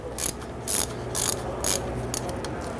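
A ratchet tightens nuts on a rear wheel bearing of a 1999-2004 Jeep Grand Cherokee, in several quick bursts of close, crisp clicking separated by short pauses.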